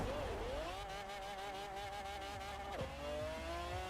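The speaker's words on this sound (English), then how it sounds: "here we go, second try with the F1 GT" An F1 GT car in Forza Horizon 4 revs hard through the gears, its engine note climbing in long rising sweeps with a sharp drop at a shift near the end, loud and close with no talk.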